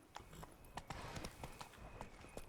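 Horse hooves clip-clopping at a steady gallop in The Witcher 3 video game, a quick rhythmic run of hoofbeats at moderate level under faint game ambience.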